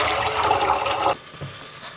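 Water splashes and gushes loudly for about a second as it is poured to be heated for green tea, then it cuts off abruptly, leaving a faint trickle and quiet room tone.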